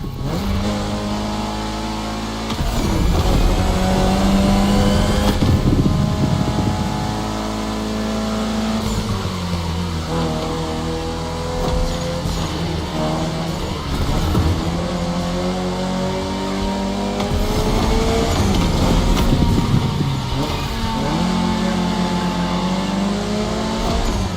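Simulated Mitsubishi Lancer Evo X race car engine in a racing video game, revving loudly and continuously with rising and falling gear pitches, close and dominant, with brief shifts and occasional tire squeal.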